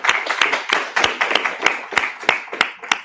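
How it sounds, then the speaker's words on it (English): A small audience at a university course presentation session claps in a loose, sparse rhythm, individual hand claps clearly separated and fairly close, with no talking over them. "Give them a round of applause."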